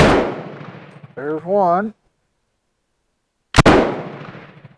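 A Bren Mk2 light machine gun is test fired outdoors at 50 yards: one loud, sharp report rings out and decays, someone speaks briefly, and after a silent pause a second loud report rings out.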